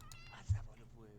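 Cat in The Sims 2 video game gives a single short meow, faint and mixed with a person talking over the game sounds.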